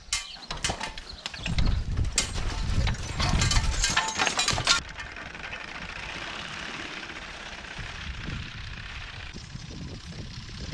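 Horse-drawn mowing machine pulled by a team of two horses in D-ring harnesses runs with steady mechanical clatter and rattling, louder and busier in the first few seconds, then a continuous lower chatter of the cutting mechanism.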